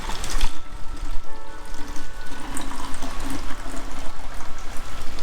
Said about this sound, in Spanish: Llenamos esta botella con agua a temperatura ambiente